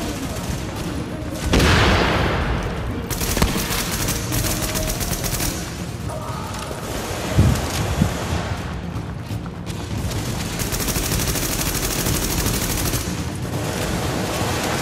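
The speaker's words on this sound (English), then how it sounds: "Stop firing at me." Gunfire in the video game The Division at a refugee camp, dense bursts of automatic fire and scattered shots layered over a constant roar, with a couple of heavier booms and brief voices.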